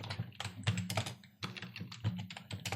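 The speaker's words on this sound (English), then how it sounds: "And so as you start typing" Rapid, uneven clicking of typing on a computer keyboard while working in Microsoft Word 2019, steady bursts of keystrokes at close range with no talking.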